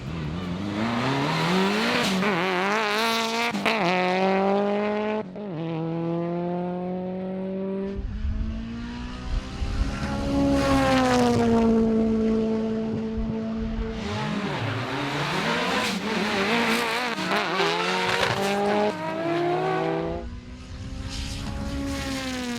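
A Mitsubishi Lancer Evolution 6 on a nitrous drag-racing pass screams loud and close, its engine climbing through repeated high revs with brief dips at each gear change, sustained throughout.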